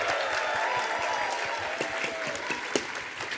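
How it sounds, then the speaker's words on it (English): Audience applause for cosplayers on stage at a cartoon-themed convention panel, a steady wash of many hands clapping with a few sharper claps standing out, fairly distant and even throughout. "We have to give a massive round of applause for all of our cosplayers up here."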